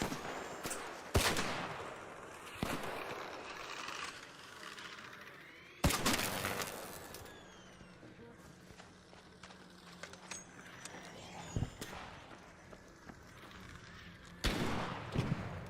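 Video game gunfire cracks out in sharp, loud bursts separated by quieter stretches, a handful of shots ringing out over faint ambient rumble, with no talk over them.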